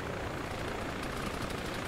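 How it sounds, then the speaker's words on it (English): A military helicopter in the Arma combat game gives a loud, continuous rotor and engine roar with a steady beating texture, heard on its own with no voices. "Hunter, you're gonna pull the medical crate from this helicopter when we land."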